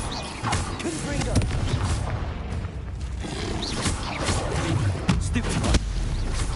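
Confringo fire spell in the video game Hogwarts Legacy, a series of booming blasts and impacts over busy combat effects, with a voice speaking briefly amid the action.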